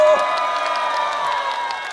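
Audience at a summer beach concert at Ilsan Beach, Ulsan, clapping and cheering steadily over held musical tones, a continuous crowd wash lasting the full two seconds.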